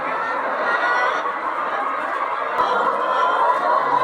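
Inside a two-row poultry farm, a house of 87-week-old Hy-Line laying hens gives off a continuous murmur of clucking from many birds, an even, busy flock chorus holding steady at moderate loudness.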